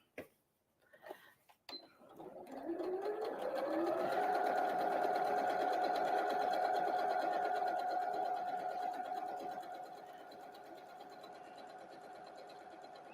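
Sewing machine stitching gently around the curved edges of a Christmas tree napkin, rising from a few short starts into a long, steady close whir that eases slightly softer toward the end.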